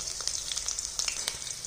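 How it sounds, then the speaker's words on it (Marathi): Eggplant fries in oil in a kadhai for baingan sabji, giving a close, continuous crackling sizzle with small pops and light stirring, with no voices. "आपण इथं तेलामध्ये चांगलं असं फ्राय करून घ्यायचं वांगं"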